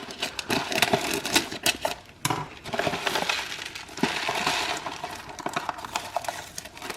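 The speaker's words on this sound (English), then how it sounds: "I'm going to cut this plastic package without stabbing myself" Scissors cutting open a plastic package of Maruchan Yakisoba noodles, close crinkling and crackling with sharp snips and rustles in irregular bursts.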